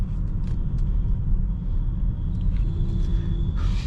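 Rush-hour city traffic in India heard from beside a BMW X7 with the windows down, a steady low rumble of engines and passing vehicles with faint horn-like tones near the end, continuous and fairly loud.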